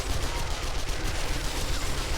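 Sustained rapid SMG gunfire from the 7 Days To Die game, loud and continuous with dense overlapping shots during a horde defense, no speech.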